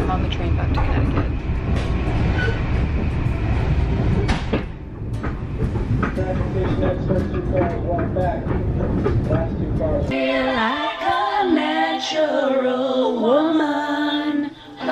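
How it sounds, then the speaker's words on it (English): A train ride back to Connecticut fills the first ten seconds with a loud, continuous rumble and rattling clatter, then gives way to music with singing. "I'm on the train back to Connecticut."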